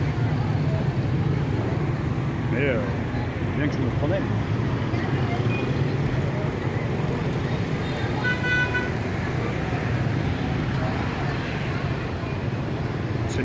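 Dense street traffic of scooters and cars in Hanoi, a steady loud roar with repeated horn toots throughout and a person talking over it.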